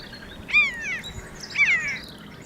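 Birds sing in a former chalk quarry, two clear descending chirped phrases close by, one after the other over a quiet outdoor background.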